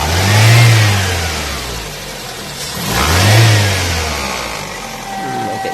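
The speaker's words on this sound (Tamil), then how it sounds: "ஸ்விஃப்ட் டிசையர் பெட்ரோலோட ரெண்டு இன்ஜின் சவுண்டு." Swift Dzire 1.3 litre petrol engine with the bonnet open, loud and close, revved twice in long smooth swells that settle back toward idle, with a voice briefly heard.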